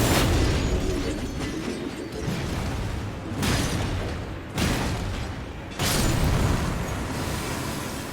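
Repeated explosion blasts in the video game Elden Ring, loud, broadband booms at roughly 0, 3, 4.6 and 5.8 seconds, each rumbling and decaying under continuous low mechanical noise.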